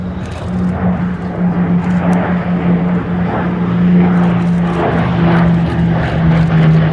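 A closed-cockpit propeller monoplane performs at an airshow, its engine droning loud and continuous with a steady tone that swells slightly as it passes.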